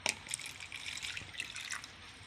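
Water is poured into a small plastic container or glass, a quiet, close trickle with light splashing and dripping over a couple of seconds.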